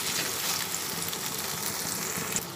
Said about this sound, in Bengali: পোস্তটা দিয়ে দেওয়ার পরে একটু তেলের মধ্যে পোস্তটা নাড়াচাড়া করে নিচ্ছি